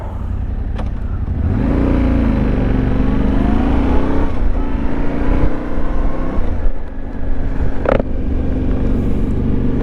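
A Yamaha Tenere World Raid motorcycle pulls away from a traffic light in gear, its engine note rising steadily through the gears over continuous wind and road noise, loud and close throughout.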